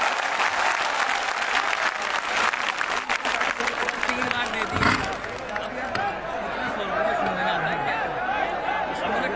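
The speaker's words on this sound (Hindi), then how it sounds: "जोरदार तालियों के साथ में स्वागत।" Loud, sustained applause from a large crowd welcoming the chief minister at an ashram gathering in Baunli-Bhadoli, with scattered shouts and murmuring voices mixed in; the clapping stays dense throughout and thins slightly toward the end.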